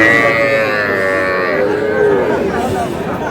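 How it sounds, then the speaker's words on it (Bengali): Young bull calves moo loudly at a livestock market in Aftabganj, several drawn-out calls overlapping close by against a murmur of crowd chatter. "দেখছিলাম এখানে ষাঁড় বাচ্চা"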